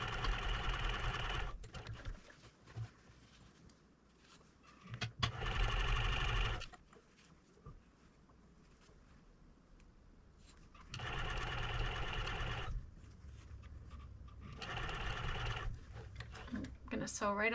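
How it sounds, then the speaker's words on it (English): A sewing machine stitches fur for a hunting muff in short bursts, loud whirring runs of a second or two separated by pauses, with a voice talking during the gaps. "With the first sewing machine, you're almost always just going to be sewing a little bit at a time and adjusting as you go."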